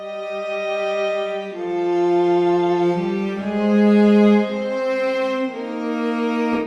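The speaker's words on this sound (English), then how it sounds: "you got to program the MIDI strings just right." Programmed MIDI string section sustaining layered chords, smooth bowed-style tones shifting between harmonies every second or two, steady and fairly loud with no voices.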